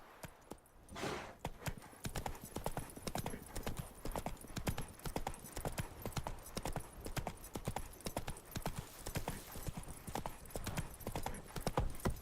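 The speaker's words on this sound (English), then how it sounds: "Not so fast, Roach. Ooh. Giddy up" Hooves of Roach, the horse in the video game The Witcher 3, clip-clop in a steady galloping rhythm throughout, loud and close, with a rider's brief spoken commands over the top.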